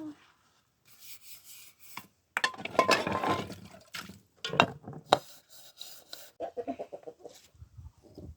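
A chicken clucks in short, soft bursts amid clattering and scraping of washed dishes nearby, with brief quiet gaps between.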